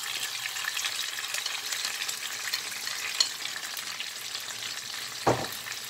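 Chicken sears in a pan with its orange marinade, giving a continuous close hissing sizzle, with a brief clink near the middle and a heavier utensil knock near the end.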